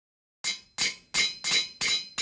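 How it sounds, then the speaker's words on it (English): Repeated hammer strikes from crafting pipes with a hammer and wrench in Minecraft GregTech New Horizons: six sharp metallic clanks at a steady rhythm, each ringing briefly and decaying before the next, loud and close with no talk. "Hammer and wrench."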